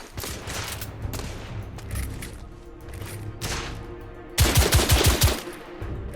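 Rifle and gunfire from The Order: 1886 on PS4: a loud burst of several rapid, sharp shots near the end, following a steady din of battle noise.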